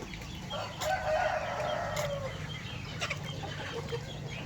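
Chickens on a Lao farm, kept together with rabbits and ducks, cluck steadily and a rooster crows nearby, with a continuous low farmyard hum beneath.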